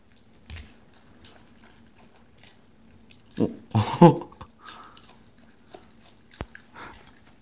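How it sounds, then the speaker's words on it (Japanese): Quiet wet chewing and crunching from a Shiba Inu eating cabbage, close by, with a short burst of louder munching in the middle amid near silence. "咀嚼音をお楽しみください"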